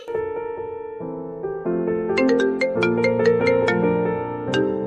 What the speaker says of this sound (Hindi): ये तो सिया की टीचर का कॉल है, वो क्यों कर रही है फोन?